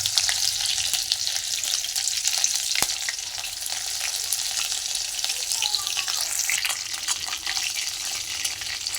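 Green chilies sizzle and fry in hot oil with roasted cumin seeds, a steady close-up crackle that runs throughout, with occasional stirring clinks.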